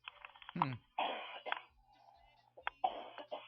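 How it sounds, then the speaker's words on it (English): Several harsh coughs and throat-clearing bursts, close and fairly quiet, separated by short pauses. "There's that nasty cough again."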